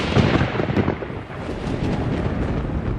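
Thunder rumbles heavily through a raging storm, a loud, deep, continuous roll that swells, dips briefly and builds again, with no voices.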